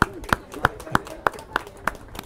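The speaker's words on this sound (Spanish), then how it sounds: "Muy bien, un aplauso." Hand claps at a book fair author presentation ring out sharp and evenly spaced, about three per second, close and distinct over a faint room background.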